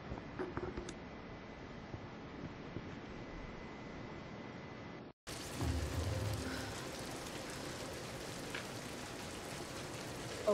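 Steady heavy rain and rumbling storm in the Tomb Raider video game, a continuous wash that cuts out briefly midway and returns louder, with a low thunder rumble after the break.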